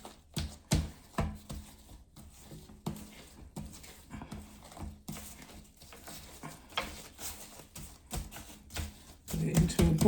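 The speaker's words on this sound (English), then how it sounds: "The bread dough rose, so I'm going to give it another little knead." Bread dough being kneaded again by hand after rising gives soft, uneven thumps and slaps in an irregular rhythm, close by, with a voice talking at times.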